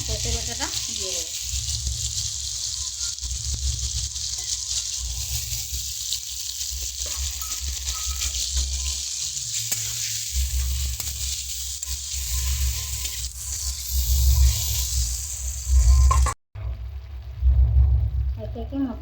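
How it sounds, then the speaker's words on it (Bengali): Tilapia fish masala sizzles loudly in hot oil while being stirred, a continuous crackling hiss with occasional scraping, and a brief dropout near the end before the frying resumes. "এবার আমি ভালো করে নেড়ে নেব।"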